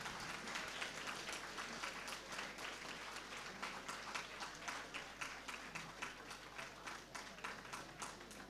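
An audience at a school Independence Day event claps continuously, a sustained patter of many hands with a steady rhythmic pulse, moderately close and unbroken from start to finish.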